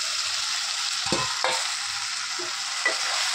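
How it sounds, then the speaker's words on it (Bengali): Fried soybean chunks and potato are stir-fried in masala in a pan, a continuous close hiss of sizzling broken by a few sharp spatula scrapes and stirs, with no voices. "দিয়ে সোয়াবিন আলুটা দিয়ে আবার কষাবো।"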